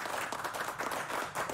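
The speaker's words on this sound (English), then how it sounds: "Let's give it a round of applause to Bunny!" Quiet audience applause for a contestant named Bunny on a competition show, a soft, distant patter of clapping lasting a moment with no voices over it.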